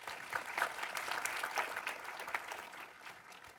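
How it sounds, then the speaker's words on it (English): Scattered audience clapping at a panel on comics and graphic novels, a fairly quiet, uneven patter of hands from a modest crowd that gradually thins out toward the end. "That's all right, you can clap."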